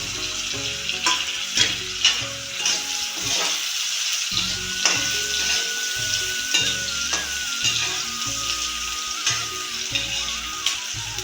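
Raw green chilies frying in hot oil with onion in a pan, a loud continuous sizzle and crackle with occasional stirring scrapes, no voices.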